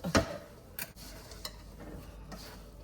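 Ingredients for Rayalaseema vaggani, seasoned with cumin, are stirred together in a bowl, giving soft scraping and a few light clicks of a spoon against the bowl, quiet and close, with no voices.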